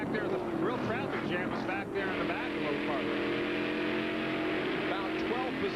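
USAC sprint cars race in a tight pack at Indianapolis Raceway Park on a Saturday night, several engines whining and sweeping up and down in pitch as they pass, continuous and fairly loud, with a commentator talking over the roar.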